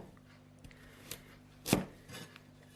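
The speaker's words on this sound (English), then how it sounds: "Cut up a large peeled carrot in thick slices like this." A knife cuts a large peeled carrot into thick slices on a board, with a few faint taps and one sharp, clear chop.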